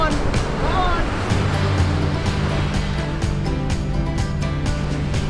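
Ocean waves wash continuously onto Carmel Beach, a broad, steady surf roar mixed with gusting wind noise against the microphone.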